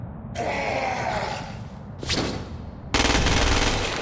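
Gunfire from the Crackdown 2 video game, aimed at a non-retaliating freak's head or legs: loud rapid bursts of shots with a brief lull, then a dense, sustained volley to the end, with no talking.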